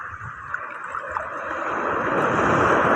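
Sea waves washing onto the shore at Burias Island, Masbate, a close, steady rushing surge that swells louder over a few seconds, with some wind noise on the microphone.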